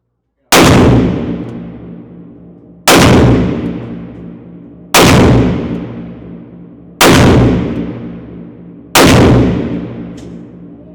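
Five very loud, evenly spaced shots ring out from a Smith & Wesson 500 Magnum revolver with a 4-inch barrel, each a sharp blast trailing into a long rumbling decay before the next.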